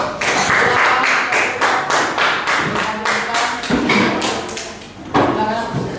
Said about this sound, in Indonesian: Kita tepuk tangan terlebih dahulu.